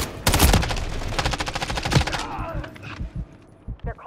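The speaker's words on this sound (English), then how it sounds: "Watch where I'm taking fire from the bridge." Rapid bursts of automatic enemy gunfire in a Call of Duty battle at the Gora Dam bridge, dense and loud for the first two seconds, then thinning into scattered shots and faint distant rattle.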